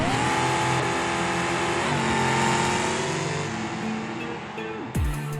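A Gavril D-Series truck in the BeamNG driving game on a drag race pass, its engine loud and close, revving high through the gears with rising tones, then a sharp gear change near the end.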